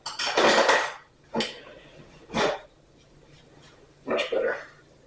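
Kitchen utensils and knives clatter against dishes in a few separate bursts, a long rattle at the start and then three shorter knocks, fairly close with no speech.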